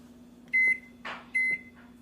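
A microwave oven with a bar of soap inside runs with a steady low hum, punctuated by two short electronic beeps and a brief rustle between them, quiet and close.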